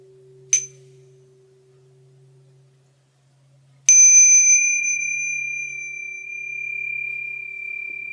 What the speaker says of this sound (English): this is the bell to bow to each other